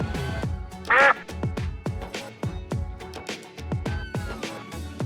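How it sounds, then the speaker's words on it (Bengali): Duck quacks ring out over a steady, rhythmic beat, one bright quack standing out near the start. "হাঁস ডাকে প্যাঁক প্যাঁক।"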